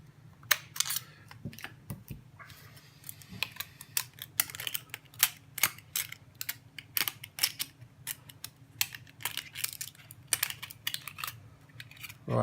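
Scissors or snips cutting through a thin aluminium Coke can, giving a long series of sharp, irregular crisp clicks and snips, close and fairly quiet.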